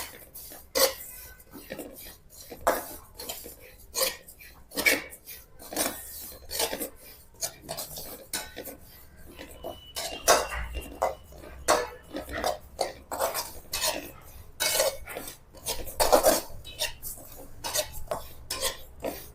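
Black masala spices, a Maharashtrian kala masala, stirred and roasted in a pan with a little oil: a steady, rhythmic scraping and clinking of a spoon against metal, close and busy, going on without a break.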